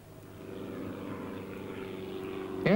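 A propeller aircraft drones steadily overhead during forest surveillance for Sirex-infected pine trees, a continuous low engine hum that swells slightly and rises toward the end, with a sharp higher whine at the close.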